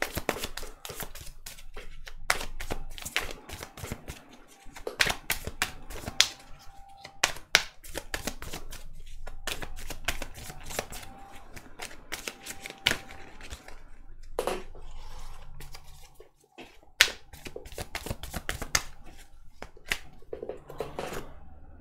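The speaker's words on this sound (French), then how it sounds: "On va tirer une dernière carte de celui-là." Tarot cards being shuffled and drawn during a reading make faint, scattered taps, flicks and soft slides of card stock, quiet and close, with a few sharper snaps among them.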